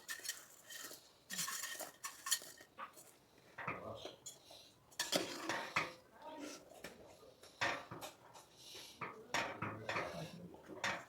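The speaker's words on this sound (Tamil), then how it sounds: "பிரெட்டை போட்டு அதில் நம்ம கிண்டிக்குவோம்." A spoon clanks and scrapes against a pot in uneven bursts as bread is stirred into boiled, sugared milk for bread halwa.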